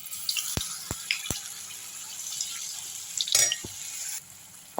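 Wheat paniyaram batter hits hot oil in a pan, bringing a few sharp taps and soft sizzling splutters over a quiet background hiss, with a brief louder clatter midway.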